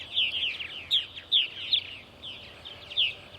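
Purple martins chirp and twitter in quick bursts around a nest house in the evening at Center Moriches, Long Island, their calls fairly close and repeated against a quiet outdoor background.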